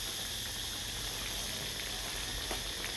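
Jackfruit pieces frying in hot oil give a steady, dense sizzle and hiss that runs unbroken from start to finish, with no talk.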